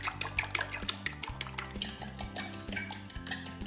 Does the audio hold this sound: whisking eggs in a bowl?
yes